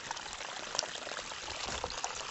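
Water from a pump-fed spring outlet in Tagdemt, Tiaret, pours and splashes steadily in a close, fairly quiet continuous wash.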